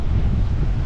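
Strong wind buffets the microphone on seaside cliffs near a lighthouse, a dense, loud low roar with no break across the short moment.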